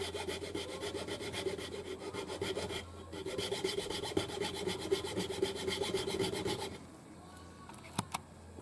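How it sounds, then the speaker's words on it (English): A small hand file rasps down a hardened lump of glue and baking soda on a fishing lure, producing rapid, even back-and-forth scraping strokes, close and steady for several seconds, then stopping, with a few light taps afterward. "I just take this little file and file it down until it's nice and flat."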